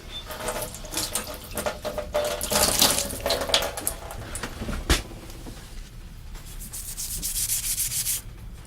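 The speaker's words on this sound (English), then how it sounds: "So I'll just clean with some water and some washing up liquid and some pumice." Metal pieces are scrubbed by hand with water, washing-up liquid and pumice to clean them for soldering, with close, irregular gritty rubbing strokes that swell and fade over several seconds.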